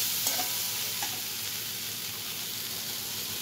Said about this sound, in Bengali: এইটা বরবটিটা একটু ভাজলাম আবার